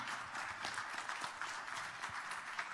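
Audience applause at a channel partner conclave and award ceremony: a steady, even wash of crowd clapping, fairly faint and distant, with no pauses.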